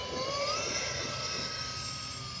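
An E-flite F-14 twin 40 mm electric ducted-fan RC jet flies past with a steady, loud high-pitched whine and a rising tone, continuous throughout with no talking.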